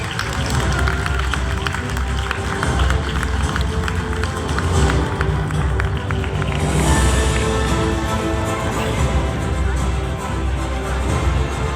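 Audience applause at a dance award ceremony honouring a dance studio's artistic director, a steady dense clapping from a large crowd running the whole time at even loudness, with some voices mixed in.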